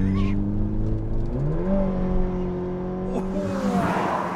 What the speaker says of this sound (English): Let's have a 3 second of the engine rev time.